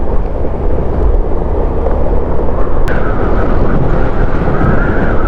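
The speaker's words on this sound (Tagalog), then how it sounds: "Lakas ang hangin, grabe oh." Heavy wind at a windmill site in Tanay, Rizal buffets the microphone in a loud, continuous low roar, with a faint engine-like hum emerging partway through.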